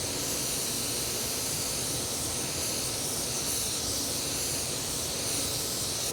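A spray gun atomizes candy-based pearl paint at about 21 to 22 PSI over a green Hazmat base coat, making a steady, close, loud hiss that runs unbroken throughout.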